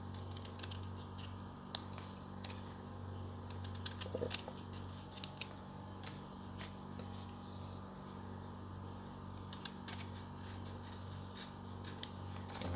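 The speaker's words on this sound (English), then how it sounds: "The next thing I'll do is cut the lemon." A knife slices a lemon on a board, producing faint, crisp cutting clicks at irregular intervals over a quiet, steady background hum.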